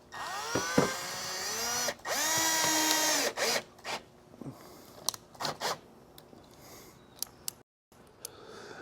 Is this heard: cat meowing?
no